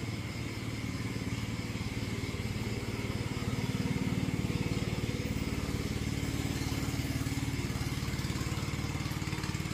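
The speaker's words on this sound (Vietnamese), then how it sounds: "Thì này có những cái chiếc xuồng máy đang chạy ở dưới sông." Motorboats run along a wide river canal, their engines making a steady, fairly loud droning hum that carries on without a break for the whole stretch.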